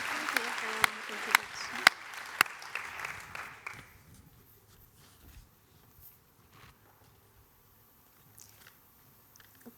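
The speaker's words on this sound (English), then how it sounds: "So please give her a round of applause." Audience clapping for a few seconds, sharp individual claps standing out, then fading away into quiet room noise and faint murmurs.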